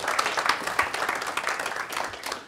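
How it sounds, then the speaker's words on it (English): An audience at an exercise and core-strength talk claps in a brief, dense burst of applause, fairly faint and uneven. "give them a round of applause"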